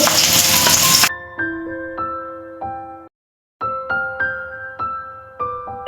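Snakehead fish frying in hot oil gives a loud, dense sizzle for about a second before music takes over and the frying is no longer heard.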